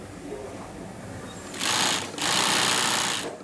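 Industrial sewing machine zigzag-stitching the backs of ballet shoes, two loud rapid whirring bursts close by after a quiet start.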